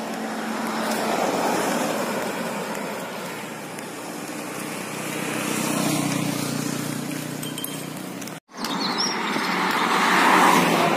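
Cars pass along a normally crowded road left nearly empty by the lockdown in Tinsukia, Assam, a broad steady hiss of tires and engines swelling and fading, with a brief cut near the end and faint bird chirps.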